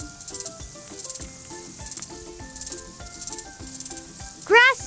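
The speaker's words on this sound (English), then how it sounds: "Grasshopper." A grasshopper chirping in short, regular, high buzzing bursts over light background music, ending with a brief louder rising call.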